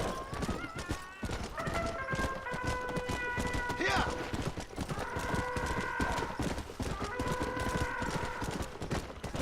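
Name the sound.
horse Famine galloping in video game Red Dead Redemption: Undead Nightmare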